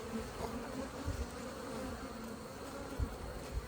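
Honey bees buzzing at an open hive during an inspection, a soft continuous drone of many wings close by with small bumps and brief louder passes.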